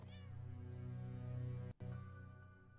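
A cat in the video game Impostor Factory meows in drawn-out, wavering cries, clear and close over a quiet low game drone, broken by a brief dropout near the end.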